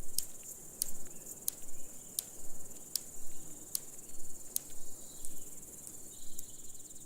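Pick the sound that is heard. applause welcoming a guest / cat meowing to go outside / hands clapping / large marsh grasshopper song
large marsh grasshopper song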